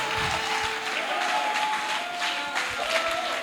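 Congregation in a church applauds steadily and warmly, a dense continuous clapping with a faint sustained tone underneath, close and full for the whole stretch.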